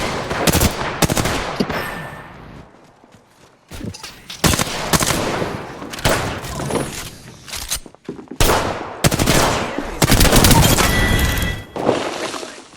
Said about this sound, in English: Getting shot at. Opening fire.